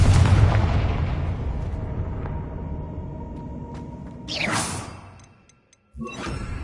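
A Confringo fire-blast spell from Hogwarts Legacy erupts in a loud, broad boom that decays into a rumbling tail, followed by a sharp whooshing burst near the end, then a brief silence before another blast.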